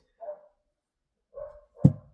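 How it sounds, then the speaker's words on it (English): A dog outside barks in two short, distant yips, then gives a sharper, louder bark near the end, with quiet gaps in between. "Someone else's dog is just barking outside."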